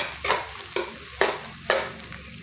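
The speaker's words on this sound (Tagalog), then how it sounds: "Lutuin lamang natin ito ng 1 minuto or hanggang sa lumambot na ang sibuyas at bawang." Sliced onion and garlic sautéing in a pan for fish sinigang, with four evenly spaced scraping stirs over a steady close sizzle.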